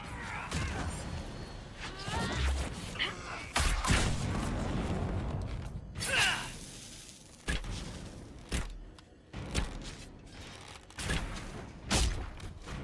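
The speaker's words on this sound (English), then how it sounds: "Explosion." Explosions in the video game Dragon Age: Inquisition: repeated booming blasts and crashing bursts over a dense, continuous rumble of combat effects, loud throughout with sharp peaks every second or two.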